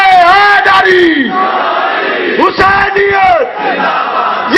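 A large crowd at a religious majlis gathering in Okara shouts slogans back in unison, two long rising-and-falling chanted calls from massed voices, loud and close.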